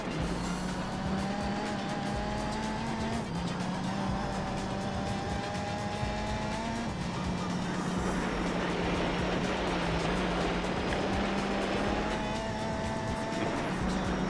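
A Porsche race car in Gran Turismo 4 holds a steady, droning engine note for the whole stretch, the pitch stepping up and dropping back through gear changes, with occasional tire squeal and no talk over it.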